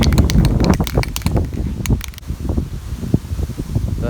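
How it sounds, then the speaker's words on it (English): Outdoor wind gusts buffet the microphone in a close, rough, rumbling rush that swells and eases without a break, with no speech. "hopefully the wind dies down."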